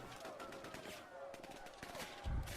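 A recorded battle soundtrack is played back, with faint rapid bursts of gunfire and scattered shots over a hissy background. A louder low thump comes near the end.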